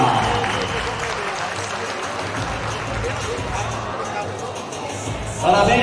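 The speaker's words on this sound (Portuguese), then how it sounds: "Podem aplaudir, campeão Paulo Lima." Crowd at a bodybuilding competition applauds a category champion, a continuous wash of clapping and murmur from a large hall, swelling slightly at the end.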